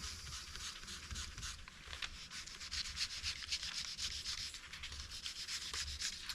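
Sandpaper rubs back and forth over an airbrushed painted surface in a steady close-up scratching rhythm, fairly quiet and unbroken, with no voices.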